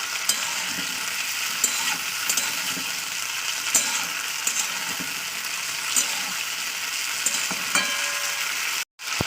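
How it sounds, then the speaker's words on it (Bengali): Lentil fritters fry in hot oil with a steady, close sizzle that runs unbroken, with scattered crackles and pops, and a brief dropout near the end. "জাস্ট তেলের উপরে ভাজা করে দেবো"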